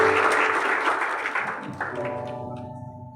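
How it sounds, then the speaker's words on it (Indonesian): A church prayer-meeting congregation applauds, the dense clapping loud at first and then fading away over a few seconds as a sustained tone comes in underneath. "Mari kita berikan tepuk tangan."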